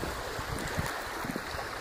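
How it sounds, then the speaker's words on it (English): Brook water gushing beneath a footbridge in a wooded town forest, a steady broadband rush with constant churning texture and no pauses, close and loud. "Water's really gushing down this way"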